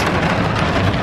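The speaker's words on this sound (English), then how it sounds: "The rain is horrendous." Heavy rain pours in a dense, constant hiss with no pauses, loud and close throughout.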